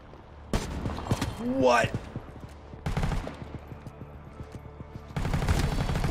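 An MG5 machine gun fires in the shooter game World War 3, several sharp bursts of rapid shots separated by pauses, loud and close, with a player's brief voice breaking in partway.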